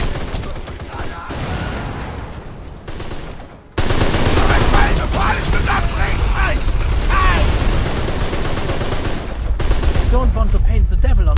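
Sustained gunfire in the Deadfall Adventures video game, with a dense run of rapid shots after a quieter opening stretch, loud and continuous, mixed with game voices and ambience.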